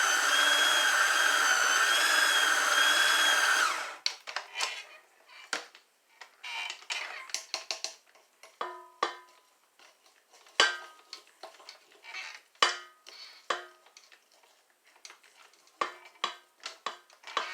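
A wooden spoon works oatmeal chocolate chip cookie dough with softened butter in a bowl, giving irregular clacks and knocks against the bowl's sides. A steady tonal sound plays briefly before the stirring begins, and no one speaks.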